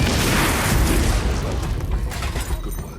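A canister explodes in the Hitman video game, a heavy roaring blast that fills the moment and slowly rumbles down with debris crackle over a few seconds.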